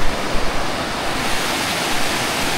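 A river flows near a waterfall, a steady, loud, broad rush of water that continues without a break and without anyone speaking.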